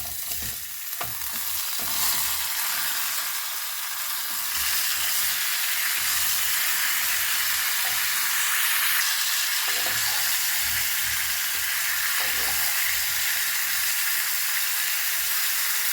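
Salted, turmeric-coated mango pieces cook in a pan with a continuous hissing sizzle, broken by several scraping stirs and spoon knocks across the stretch, close and fairly loud with no talking.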